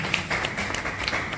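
An audience at a Hindi poetry gathering claps steadily for a poet coming to the stage. The applause is dense and moderately loud, filling the short moment with no pause.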